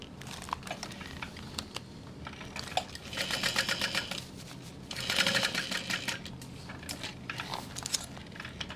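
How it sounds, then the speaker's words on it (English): A sewing machine runs in short bursts of rapid rhythmic stitching while basting a bag panel at its center marks, with quieter handling and rustling of fabric between the bursts. "I'm just gonna do a super quick baste at my center marks"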